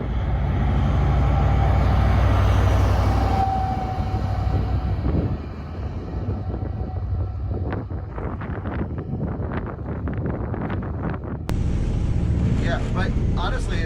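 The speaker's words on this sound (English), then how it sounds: "So turbo's spooling up on that diesel electric generator. It's very thunderous." A giant mining truck's diesel-electric generator spools its turbo in a loud, thunderous drone, joined later by rumbling and rattling bursts, with people talking over it.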